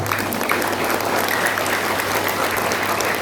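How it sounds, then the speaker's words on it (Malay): Steady audience applause for a headmaster at a school teacher's retirement ceremony, even, continuous clapping from a crowd with no talking over it. "Tepukan untuk Tuan Haji Syed Musa."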